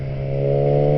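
Yamaha R6 sport motorcycle engine under way at slow riding speed, a close, loud, steady droning hum with a strong even pitch that builds slightly toward the end, with no talking.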